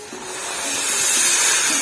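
Hot water poured into a hot frying pan of jackfruit and prawn curry sends up a rising, steady steam hiss that builds and holds loud for a couple of seconds, with no talk over it.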